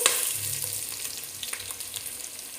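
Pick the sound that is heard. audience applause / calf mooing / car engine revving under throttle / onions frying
onions frying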